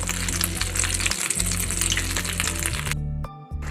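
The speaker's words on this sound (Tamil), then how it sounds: "இப்போ எண்ணெயில் ஃப்ரை பண்ணி எடுத்துடலாம்." Cauliflower pieces frying in hot oil in a pan, a steady dense sizzle and bubbling that runs without pause, easing briefly near the end.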